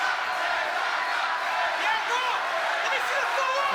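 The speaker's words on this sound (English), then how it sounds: "The crowd sensing a shift in momentum a bit here in round 9" Boxing crowd in round 9 of a professional fight, a distant sustained murmur of cheers and shouts sitting under a commentator's voice.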